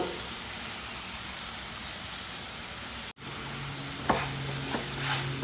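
Ivy gourd frying in a pan with a steady, soft sizzle and a few light stirring scrapes near the end, close and fairly quiet, with no talk.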